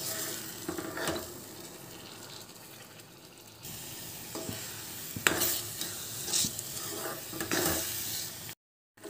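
Egg bhurji with tomatoes fries and sizzles steadily in oil in a pan on medium-high heat, a spoon stirring and scraping now and then, close and continuous with a brief drop to silence near the end.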